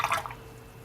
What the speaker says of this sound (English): And just wash the brush off.